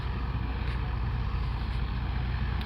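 Tractor driving through a field of straight crop rows, a steady low engine rumble with broadband wind and mechanical noise, continuous and fairly close throughout.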